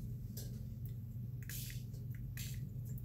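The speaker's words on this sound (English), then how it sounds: "I'm gonna spritz a little bit of water on." Water spritzed from a spray bottle onto watercolor paper, a few short hissing sprays separated by pauses, faint and close, with no talking.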